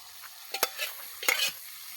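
Pasta being stirred in a frying pan outdoors in a field, with a couple of distinct scraping stir strokes over a faint steady sizzle, fairly quiet and close.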